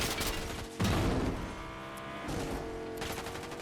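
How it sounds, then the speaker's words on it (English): Gunfire in the Fortnite video game, bursts of rapid shots and rattling volleys that come in clustered waves, sounding moderately distant, with no talk. "I hear gunshots."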